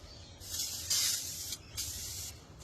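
Aerosol oven cleaner hisses from a can in several short spray bursts, close and fairly loud, with brief gaps between them.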